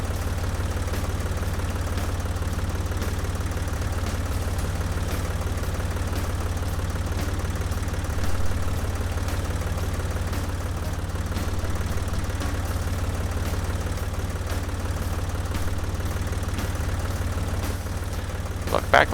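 A farm tractor engine idles in the Professional Farmer 2014 game, a steady low-pitched chugging drone that holds evenly throughout, with a couple of small clicks near the end.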